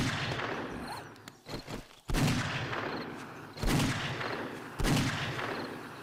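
Gunfire aimed at zombie bears in the console version of 7 Days to Die, with loud sharp shots at irregular intervals over steady game ambience and some quieter clatter between them.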